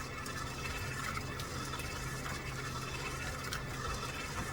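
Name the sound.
electric mixer creaming butter and sugar for cookie dough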